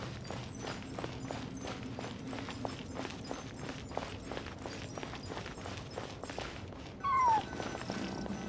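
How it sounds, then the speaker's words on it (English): In Genshin Impact, a cat gives a single short meow late on, clear against a steady run of rhythmic footsteps on a hard floor inside ancient ruins. "I followed the cat's cries to find my way out."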